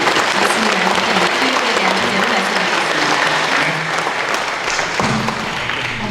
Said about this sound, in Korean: 크게 박수로 환영해 주시죠.